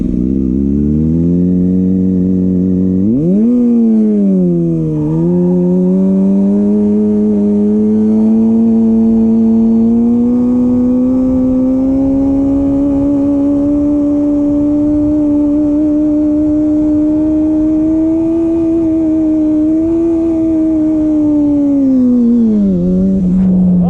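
A Kawasaki ZX6R sport motorcycle revs hard and holds a high, steady engine note through rolling burnouts, rising sharply early then sustaining a loud, continuous whine before dropping back near the end.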